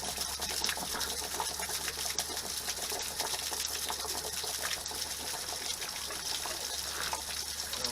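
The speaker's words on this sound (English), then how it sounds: "Hot water tank emptying." Steady rushing and trickling water runs continuously as an RV hot water tank drains, with a constant mechanical hum underneath.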